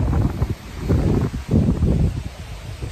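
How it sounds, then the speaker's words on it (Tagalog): Strong wind gusts buffet the microphone in a rural hillside setting, roaring and rustling in surges that rise and fall, with no talk. "malakas ang hangin eh"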